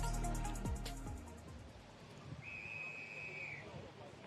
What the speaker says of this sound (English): Whistle's gone,